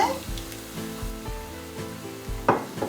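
Tomatoes hit a pan of glassy, lightly salted frying onions, giving a continuous sizzle with a few soft clatters and a louder burst near the end.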